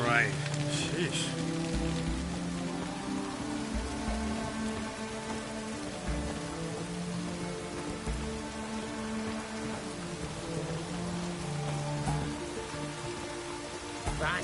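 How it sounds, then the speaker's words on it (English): Rain falling as a constant hiss beneath a game's music and voiced lines, steady from start to finish. "Looks like rain."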